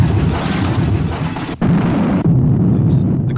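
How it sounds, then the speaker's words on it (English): A car crashes, flips and bursts into flames in a film, a loud rumbling roar of burning and debris with a sharp break partway through. "The car flips, rolls over, and catches fire."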